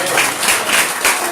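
A church congregation applauds during a French-language service, with dense, steady clapping filling the space and pulsing in slightly louder waves, close and loud, with faint voices mixed in.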